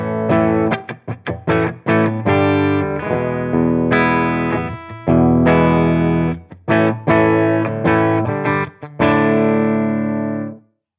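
An electric guitar runs through a Headrush MX5 with an impulse response and reverb, playing a loud riff of chugging chords and quick picked stabs with brief gaps, ending on a held chord cut off abruptly.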